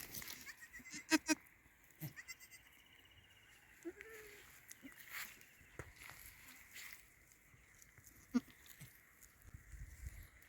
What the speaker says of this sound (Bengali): এই কারণেই আমি মা ছাগলটাকেও চোরাতে নিয়ে এলাম